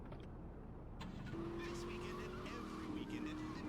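Car engine hum in Grand Theft Auto III, a steady low drone under game music and background noise, with talking heard over it.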